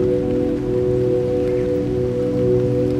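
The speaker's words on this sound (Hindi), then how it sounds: "कैंप खोलते ही बारिश ने मुझे आ घेरा" Steady rain pattering on a camp beside Lake Saif in the mountains of northern Pakistan, a continuous dense hiss with a low droning hum underneath and no voices.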